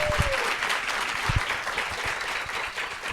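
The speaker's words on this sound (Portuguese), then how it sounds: "Palmas pra todos vocês." Steady audience applause at an accounting-industry immersion talk on digital transformation, a dense, even patter of many hands clapping throughout, with a faint voice briefly audible underneath.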